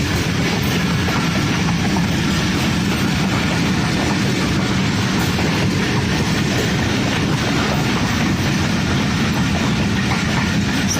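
A train rolls slowly through Kot Lakhpat railway station, a continuous loud rumble with faint clickety-clack of wheels and an idling engine hum, steady throughout with no voices.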